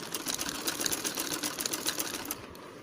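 A sewing machine stitches fine, close stitches along the piping of a lined blouse, running in a steady, fast, continuous whir with a rapid needle clatter. It stays close and moderately loud, with no talking.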